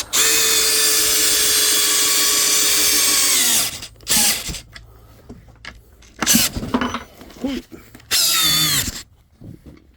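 Sub-compact drill boring with a 7/16 bit: a loud sustained high whine for about four seconds that winds down, followed by short bursts of drill and a voice between them.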